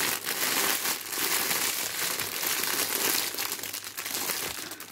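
Packets of diamond-painting beads rustle and crinkle continuously during an unboxing, a dense, close plastic crackle that stays loud and unbroken throughout, with no voice over it.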